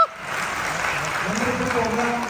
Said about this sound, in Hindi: उनके लिए जोरदार तालियां होनी